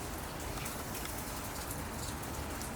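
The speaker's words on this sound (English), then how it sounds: "the rain has died off a bit" Light rain patters steadily on surfaces in the back yard of an old abandoned cottage in Norwood, a soft, even hiss of drops with no voices.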